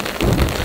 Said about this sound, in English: It's raining so hard, in fact, it's like a river of water moving downhill.